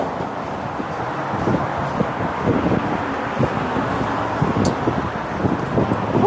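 Wind blows outdoors on a bright Las Vegas day, a continuous rumbling buffet with gusty bumps, like wind hitting a microphone. Faint traffic-like noise sits underneath.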